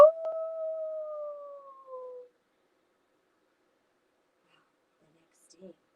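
During a children's story, a voice imitates a coyote howling at the moon with one long, slowly falling howl. The howl fades into silence, followed by a faint sound near the end.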